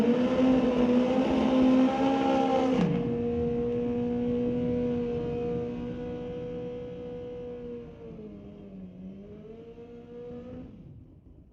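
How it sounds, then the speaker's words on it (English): Kawasaki drag racing motorcycles at NHRA Canadian SPORTSnationals qualifying scream at high revs, one engine note dropping sharply early on, then a long sustained wail that fades as they run down the strip. "Couple Kawasaki's cutting it up right here."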